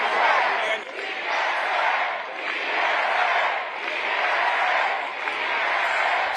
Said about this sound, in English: The crowd chanting slogans like "Freeze the Rent," as well as DSA